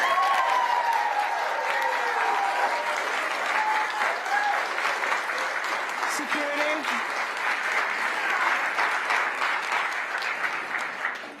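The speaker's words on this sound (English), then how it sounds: "If the clapping resumes, if you do that, then we are going to be forced to clear the room." An audience claps at a school board meeting: loud, sustained applause fills the room throughout, with a voice briefly calling out over it.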